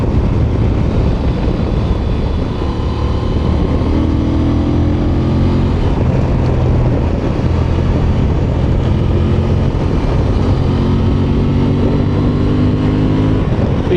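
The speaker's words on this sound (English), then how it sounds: "You are going to have to use the gearbox a bit. Let's get it down a few gears." Engine of a 2025 Honda Transalp 750 motorcycle on a ride, a loud steady drone with rising and falling pitch as it shifts down through gears, masked by constant wind rush.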